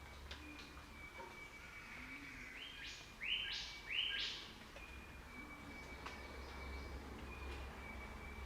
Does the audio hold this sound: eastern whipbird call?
yes